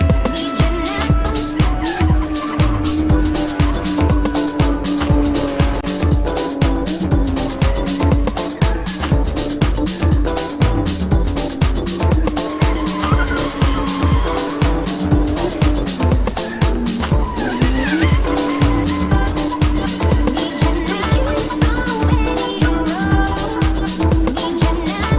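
A borrowed drift car, pushed to full throttle, runs a track at a Lithuanian drift championship round in Madžiūnai. The engine roars hard and nonstop while the tires shriek in a long, loud skid.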